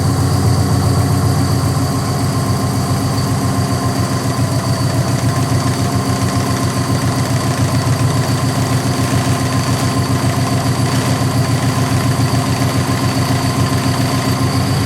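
A Subaru engine idles steadily and loud throughout while the steering wheel is turned, the power steering pump adding a continuous low hum and faint whine under the even engine drone.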